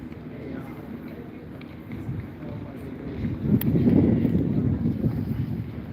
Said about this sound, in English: It's a little bit windy, but you know, it keeps it from getting too hot.